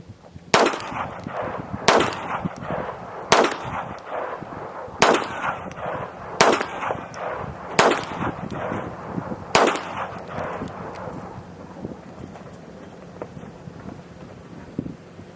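Seven sharp .22 rimfire gunshots fired outdoors at a steady pace about one and a half seconds apart, each a loud crack with a brief echoing tail, wind buffeting the microphone and no talking.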